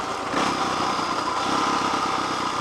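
A motorcycle engine running steadily below 4,000 RPM, close and loud with an even throbbing exhaust note throughout and no other sounds.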